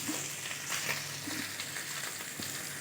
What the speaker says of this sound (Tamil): ஒரு 2 நிமிஷம் அப்படியே ஃப்ரை ஆகட்டும்